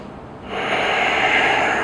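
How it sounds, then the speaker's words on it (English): A single deep, loud breath drawn in through the nose during a shoulder mobility stretch, starting quietly and swelling into a sustained airy rush, close to the mic with no talking. "I'm going to breathe."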